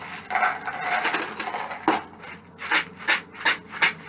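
A shaker filled with dried kidney beans is rattled, first in a continuous rustle, then in a series of distinct, rhythmic shakes, close and fairly loud.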